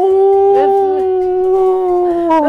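A police shepherd dog howls loudly in one long sustained, wavering cry with rising and falling pitch, close and prominent throughout.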